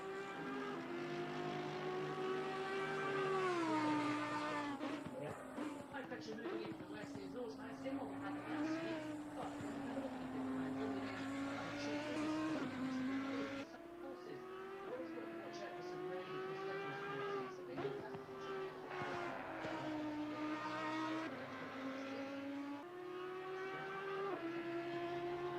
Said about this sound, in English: It's an AMG GT3 in P1, Elliot.